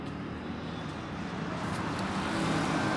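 A Mahindra 575 DI 45 HP tractor engine rumbles steadily and continuously, a low broadband drone at moderate distance with no talk.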